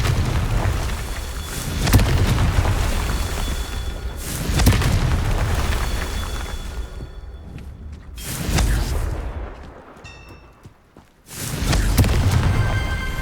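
Repeated booming blasts of the Confringo explosive spell in the Hogwarts Legacy video game, several loud rumbling bursts a few seconds apart, each swelling and fading, with crackling debris between them.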